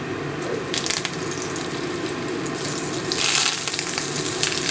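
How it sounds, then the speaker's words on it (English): Olive oil and unsalted butter sizzle and splatter in a hot pan over medium heat, a loud continuous crackling hiss with bursts of sharper popping, close up and with no voices. "You can see the oil just splatter."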